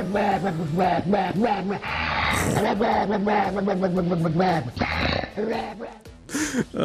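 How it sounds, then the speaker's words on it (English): A dog being squeezed gives strained, gurgling growls and whimpers, close and continuous, rising and falling in pitch with short pauses near the end. "That is the sound of a dog being squeezed."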